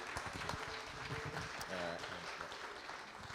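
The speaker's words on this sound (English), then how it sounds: "Chris, if we give him a round of applause as he walks on." Steady clapping from a crowd fills the space, with some voices and cheering mixed underneath.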